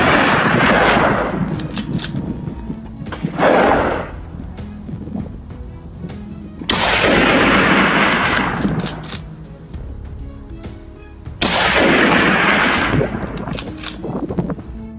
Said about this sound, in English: the first gunshot echoed through the hills